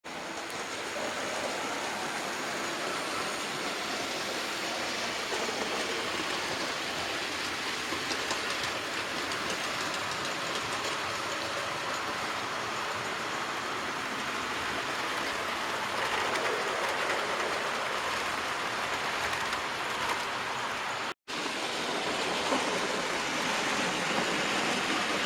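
A Terrier locomotive runs on a loft model railway, producing a steady, dense rushing rumble with faint rhythmic clicking of wheels over the track that carries on throughout, broken by one tiny dropout.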